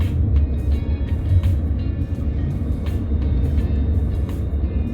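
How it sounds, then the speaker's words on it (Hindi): Traffic on a road in India as an auto rickshaw overtakes, steady loud low engine rumble and road noise from inside a moving vehicle, with faint intermittent horn-like tones and no talking. "ये एक ऑटो वाले भाई साहब ओवरटेक करना चाह रहे हैं।"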